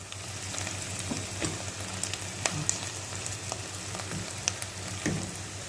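Onions for an Egyptian meat-and-orzo dish fry slowly over low heat in a pan, giving a steady, close sizzle with scattered small crackles and pops throughout, with no talking.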